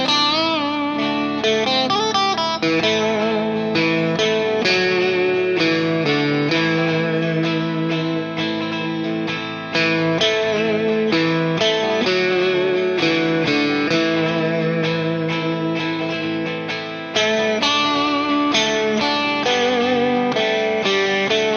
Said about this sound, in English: This is a very simple riff that uses a spring reverb